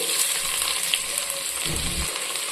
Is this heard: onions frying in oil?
yes